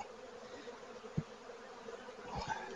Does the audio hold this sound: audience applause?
no